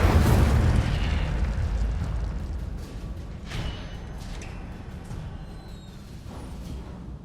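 A fire spell from Hogwarts Legacy erupts in a loud, booming burst that opens the moment, then fades into a crackling, roaring blaze with scattered pops over several seconds, with no talking.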